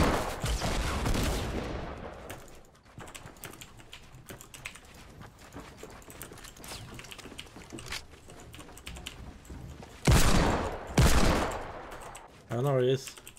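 Gunfire from hand cannons and a rocket launcher in Fortnite Battle Royale: a dense burst of rapid shots at the start, then two sharp loud blasts later, with steady clicking throughout.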